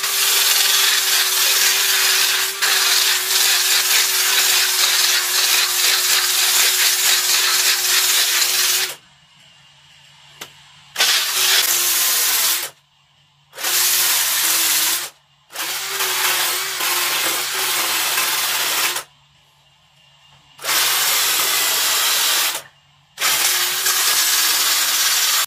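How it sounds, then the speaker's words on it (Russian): A cordless screwdriver works on a homemade wooden dough press, whirring loudly in long continuous runs, then in several shorter bursts separated by brief silences, close up with no talking. "С помощью шуруповерта"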